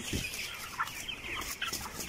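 Broiler chickens, 22 days old, cluck in a shed holding around 920 birds, a scattered chorus of soft calls close by with no talk.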